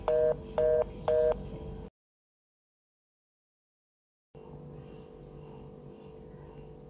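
Three short bursts of phone keypad dialing tones over a steady line hum, followed by a dead-silent gap and then a low, hissy open-line background.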